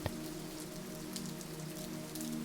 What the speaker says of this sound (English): the gentle continuous strumming of rain on the nearby roof tiles